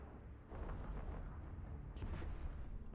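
Ship weapons in EVE Online fire on Serpentis pirate rats as a deep, rolling barrage of booming blasts. Sharper cracks break through over a continuous low rumble.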